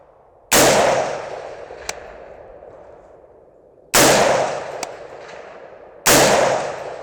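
Three loud AR-47 rifle shots at an outdoor range, each a sharp blast with a long echoing decay, spaced a few seconds apart.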